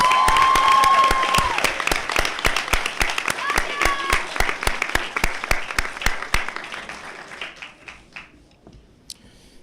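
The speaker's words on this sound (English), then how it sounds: "another round of applause for Mr. Rodriguez." A graduation ceremony audience applauds in a loud, dense round, with a brief voice heard early on, before the clapping thins into scattered individual claps and fades out.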